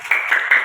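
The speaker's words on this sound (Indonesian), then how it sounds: "Tepuk tangan untuk Anda." A brief burst of a few hand claps from a small classroom group, close and fairly loud, lasting under a second.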